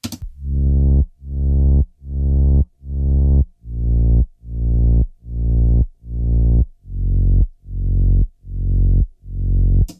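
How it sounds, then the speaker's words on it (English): A deep synth bass from an OP-1, shaped by a tremolo LFO for a fake sidechain effect, pumps in steady rhythmic swells, each note ducking and rising again about once a second, about eleven pulses in a row. "I used the tremolo LFO on the OP-1 to create a kind of this fake sidechain compression sound"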